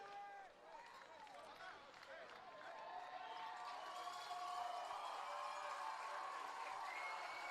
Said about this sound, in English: the crowd and cheerleaders are giving a well-deserved round of applause to their Bulldogs